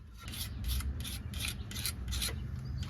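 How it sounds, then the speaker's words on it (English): Old silicone sealant is scraped off a Corvair valve cover in about eight rhythmic back-and-forth strokes, giving a close, raspy scraping sound with no talk. "I'm definitely gonna have to scrape all this off"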